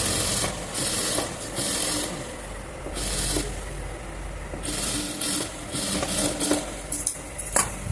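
A sewing machine stitches cloth for an umbrella frock, running in short bursts with pauses, a steady mechanical whirr with clicks and light handling noises between runs, close and fairly loud.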